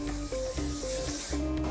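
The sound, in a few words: spraying oil onto a preheated waffle iron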